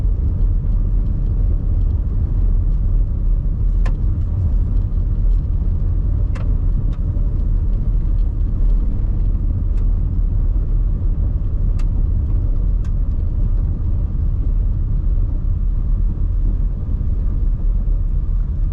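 A car drives through suburban streets of Myrtletown in Brisbane, heard from inside as a continuous low engine and road rumble with faint occasional clicks and creaks.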